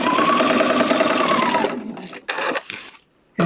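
A sewing machine stitches quilt fabric in a fast, steady mechanical whir for nearly two seconds, then slows into a few short bursts before stopping.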